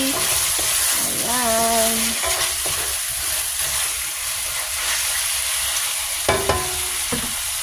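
Yellow noodles with chili stir-fry in a pan, a steady loud sizzle with scraping stir strokes throughout, while someone speaks briefly over the cooking.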